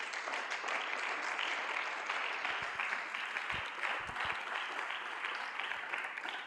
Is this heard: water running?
no